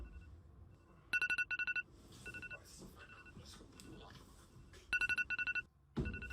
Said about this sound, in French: L'alarme.